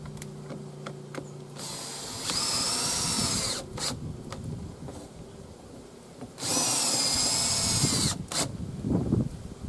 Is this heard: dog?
no